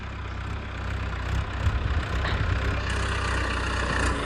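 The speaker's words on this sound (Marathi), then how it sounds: "तर मित्रांनो फायनली ट्रॅक्टर आलेला आहे टोचन करायसाठी." A tractor that has arrived to tow something idles nearby with a steady low rumble, its engine note rising slightly partway through and then holding even.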